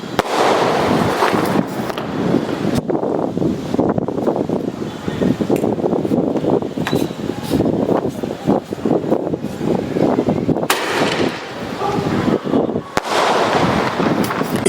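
Firework shots crackle and bang continuously for the whole stretch, loud, dense bursts with sharp pops standing out, no talking.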